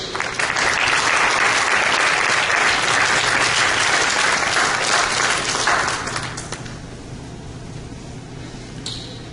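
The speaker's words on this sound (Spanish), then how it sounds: "Dale un aplauso a Dios." Church congregation applauding during a Christian service, a dense loud burst of clapping for about six seconds that fades to quiet room sound.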